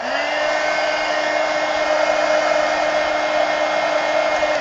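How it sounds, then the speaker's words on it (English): A heat gun blows steadily on a pumpkin decorated with mixed-media paper collage, a loud, even whooshing roar with a high whine that runs unbroken and close for the whole stretch, with no talk. "let me hit this with a heat gun"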